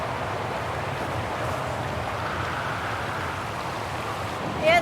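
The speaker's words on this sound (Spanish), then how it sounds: "Vamos a ver la cascada otra vez." Steady rushing waterfall in the snowy refuge area of Syberia: The World Before on Vaghen island, a constant broadband wash of falling water with a brief brighter tone near the end.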